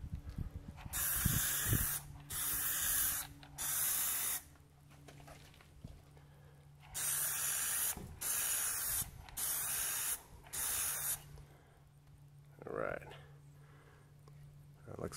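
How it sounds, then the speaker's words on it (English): Several short bursts of Plasti Dip aerosol spray onto a car emblem, each a hissing blast lasting about a second, in two clusters separated by pauses, with faint handling noises between. "looks a little crinkly, so I'm gonna give it a little more spray here"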